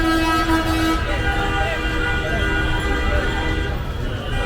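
A horn toots on a busy Dhaka street, one loud sustained blast near the start and then further honks over a dense roar of engines and traffic. Talk mixes in with the street noise.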